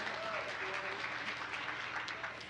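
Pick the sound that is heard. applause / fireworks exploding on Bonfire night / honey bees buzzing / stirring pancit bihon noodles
applause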